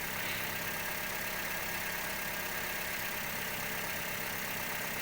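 A Toyota Vios engine idling at a steady, even drone with a faint knock-like texture, constant and close with no change in level and no talking.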